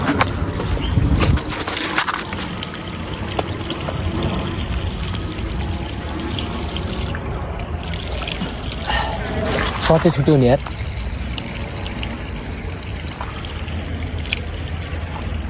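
Spring water trickles and splashes steadily at a village stream, a continuous watery wash heard close by, with people talking over it for much of the time.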